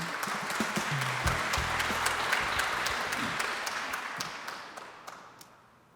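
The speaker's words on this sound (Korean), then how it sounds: "여러분 이사장님을 큰 박수로 맞이해 주시기를 바랍니다." An audience at a commemoration ceremony applauds to welcome a speaker to the stage, with dense, sustained clapping from a large crowd that fades gradually toward the end.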